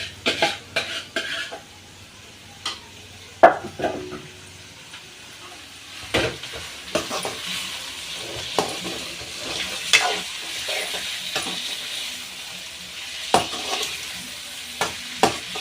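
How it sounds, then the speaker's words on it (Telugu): Chicken frying in a hot oil tempering for curry, a steady close sizzle under repeated scraping and clinking as a spoon stirs the pan, no voices present. "ఇంకా ఈ తాలింపులో వేయాలి చికెన్"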